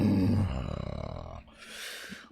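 A person imitates a lion's roar with a loud, deep, rumbling growl that holds for over a second, then fades into a breathy rasping exhale, close to the listener.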